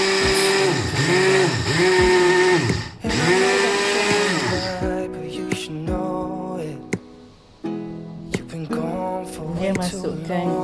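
An electric blender whirs loudly as it grinds sugar for a pandan cake, with a steady high motor whine that rises and dips. It stops midway, followed by clattering and a voice.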